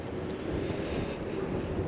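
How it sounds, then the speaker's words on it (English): Wind gusting outdoors, buffeting the microphone with a steady broadband rush that lasts the whole short moment. "It's a little bit windy out here."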